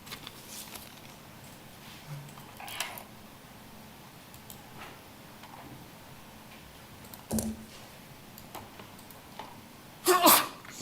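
A single sneeze bursts out loudly near the end of a quiet stretch during a commission meeting on a video call, after faint scattered sounds and light room noise.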